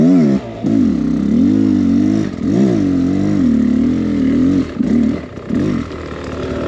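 A dirt bike engine with tall gearing revs hard on soft ground, a loud continuous droning roar whose pitch rises and falls in several surges, close to the microphone.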